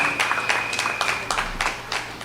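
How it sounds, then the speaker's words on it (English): An audience at an outdoor political rally in St Augustine, Trinidad, gives a brief round of applause, a close, irregular patter of hand claps over a steady electronic tone. "Give Zambo a round of applause"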